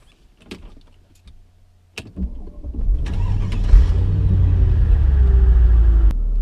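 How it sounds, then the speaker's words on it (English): A Mercedes W220 S55 AMG starts up: a few faint clicks and a door-like thud, then the starter and engine catch and settle into a loud, steady low rumble that holds to the end. "you start the car. It's got a really nice rumble."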